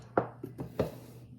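Sourdough starter being stirred in a container: a few soft, scraping knocks in an uneven rhythm, about four quick close strokes, faint and with no voices.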